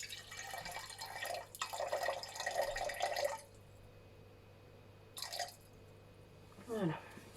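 Demineralised water is poured into a container in quiet, faint bursts of splashing and trickling, separated by pauses, with a brief vocal sound near the end.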